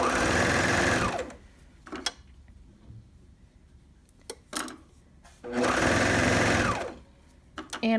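Sewing machine stitching a half-inch curved hem, with two close, steady bursts of whirring stitching separated by quiet pauses and small clicks, and a voice speaking in between.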